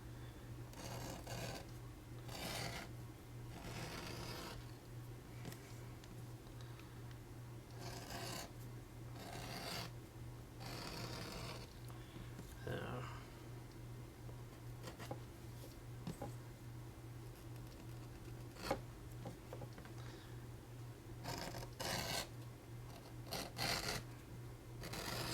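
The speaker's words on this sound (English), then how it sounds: "it's the edger's dragging a little bit because of that" A leather edger drags along the edge of a soft hide strap, giving a steady, close rasping scrape repeated in short strokes with a faint hum underneath.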